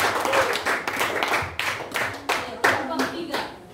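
Students clapping in a junior high school classroom, a burst of dense applause from many hands that swells and fades in waves, with a few louder claps standing out near the end.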